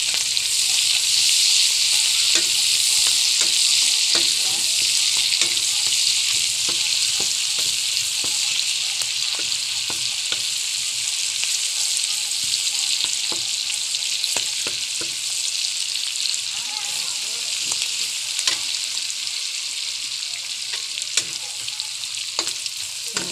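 Onion and garlic fry alongside pork in a pan for pancit bihon, a loud continuous sizzle close up, punctuated by repeated scraping and clicking strokes of a spatula as the mix is stirred.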